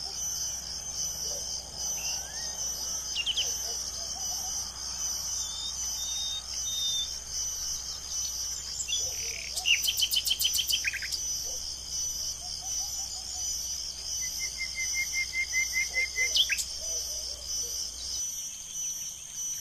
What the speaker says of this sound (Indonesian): Serangga.